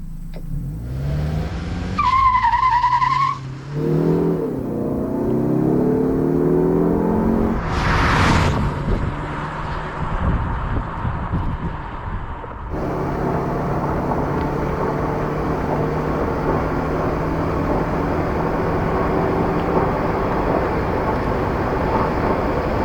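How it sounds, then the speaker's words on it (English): A 2021 Mazda3 2.5 Turbo AWD sedan accelerates hard through a half-mile run, its engine note climbing through gears with short breaks at shifts and a sustained rising drone, accompanied by wind and road noise. "Let's start with our full half-mile acceleration test."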